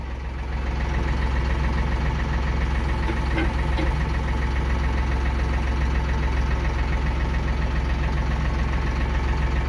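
A heavy tractor engine idles steadily and loudly throughout, with a low rumbling knock and no voices.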